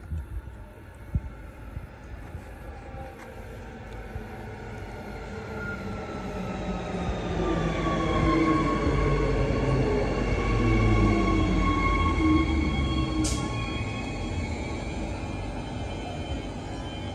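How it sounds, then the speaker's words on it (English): A Queensland Rail commuter train pulls into a station platform with a low, swelling rumble of wheels and motors that builds and holds steady, broken early by one brief clank and later by a short high squeal, heard without any voices. "The train arriving on platform 2 is the Binder train, stopping all stations."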